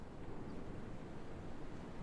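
Faint, steady coastal ambience for a tabletop fantasy game scene, with low rushing wind and a soft wash of distant waves rolling on without a break.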